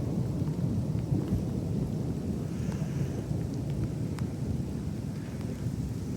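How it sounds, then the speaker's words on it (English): Rain falls steadily during a mid-August walk on the Gandy Dancer Trail, with a low continuous rumble of thunder and wind buffeting the microphone; no one speaks. "wait for this thunder."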